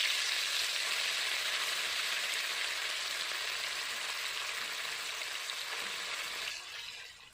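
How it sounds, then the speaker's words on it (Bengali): Fish sizzles steadily in hot oil, a dense and even frying hiss that runs for several seconds before fading toward the end. "মাছ ভাজা হচ্ছে"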